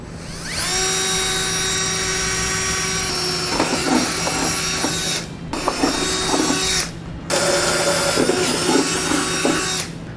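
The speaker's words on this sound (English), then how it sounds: "Now we can drill out our other holes" A power drill whines at a steady high pitch, biting into the metal frame of a 2016 Chevrolet Traverse with rattling, grinding bursts and two short pauses between runs.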